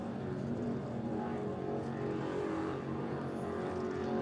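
A racing powerboat engine drones steadily on open water at a championship powerboat race, a sustained mid-distance hum with a faint high whine drifting over it; no one speaks.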